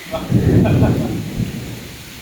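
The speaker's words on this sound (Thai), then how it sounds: "ตอนนี้พายุก็แรงมากๆเลยนะครับ" Thunder rolls through a heavy thunderstorm with downpour and lightning, a deep rumble swelling loud early then easing under steady rain noise, close and enveloping.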